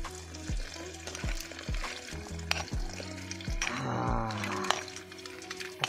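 Crab frying in a clay pot for biryani, a steady close sizzle with stirring and scraping. A voice talks over it now and then, with a rising bubbly burst partway through.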